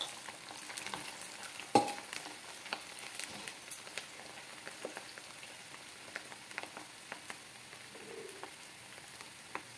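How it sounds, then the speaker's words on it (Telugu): Cauliflower florets frying in hot oil in a pan, a steady close sizzle broken by crackling pops and occasional stirring clinks, with no talking. "ఈ నూనెలో కాలీఫ్లవర్స్ వేసి ఒక 2-3 మినిట్స్ వేయించుకోవాలి"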